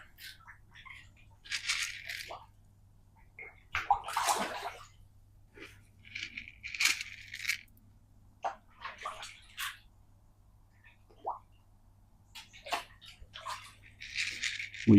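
Koi fish splashing at the surface of a pond while feeding on pellets, a series of irregular wet splashes and plops at close range with quiet gaps between them and no talk.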